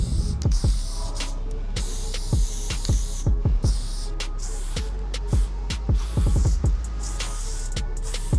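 Short hissing bursts from a spray paint can downstairs in a derelict building, where bored kids are painting graffiti and trashing the place, mixed with repeated clicks and rattles of the can. The noise runs steadily with no voices.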